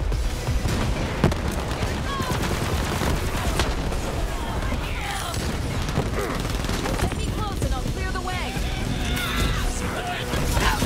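Explosions in Borderlands 3 boom and crackle in dense succession with gunfire, loud and continuous throughout, with a voice speaking briefly over the chaos.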